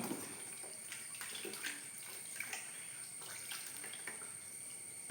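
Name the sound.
washing raw banana slices in water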